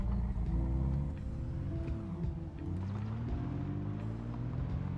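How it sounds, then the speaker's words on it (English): Jeep in the zombie survival game Project Zomboid cruising along, a steady droning engine hum with shifting tonal whine, continuous and fairly loud throughout with no voices. "I put the empty gas can into the Jeep and took it for a ride"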